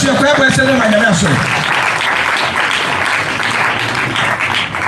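A church congregation at a Pentecost jubilee service breaks into steady, dense applause that carries on for several seconds; a voice is heard speaking or calling out briefly at the start, before the clapping takes over.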